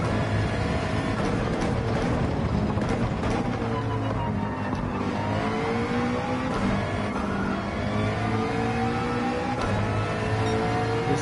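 A McLaren race car's engine in the video game Gran Turismo 7 at Laguna Seca, loud and continuous, with the revs climbing and falling through gear changes and a steady tonal whine layered over the drone, with no talking.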